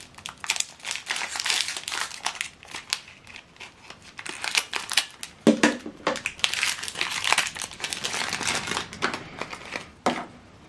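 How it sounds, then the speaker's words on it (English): Plastic wrap being pulled off an HP 305 ink cartridge while setting up an HP DeskJet printer, heard as close, continuous crinkling and crackling bursts that swell and fade repeatedly, with no talking. "Okay, just need to pull off this plastic."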